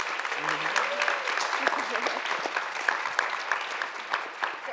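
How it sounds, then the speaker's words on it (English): An audience at a wellbeing event with a dance performance applauds steadily at moderate volume, with sharp individual claps audible and a brief voice near the start. "Can we get a round of applause for them taking up space?"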